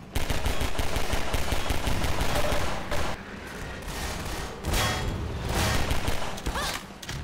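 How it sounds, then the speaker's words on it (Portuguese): Rapid automatic gunfire in the co-op version of the game Half-Life 2, dense loud bursts of shots with brief pauses between volleys, close and harsh. "tô levando tiro pela janela"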